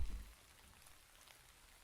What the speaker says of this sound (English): We sit side by side and watch the rain.